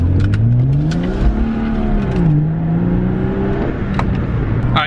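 BMW F30 335i with a muffler-delete exhaust pulls along under way, the engine note rising and falling through gears with a loud, raspy drone close by, no talking.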